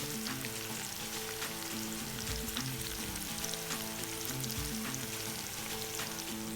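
Rendered bacon and translucent onion fry in a Dutch oven, giving a loud, continuous close-up sizzle with a faint low hum underneath and no talking.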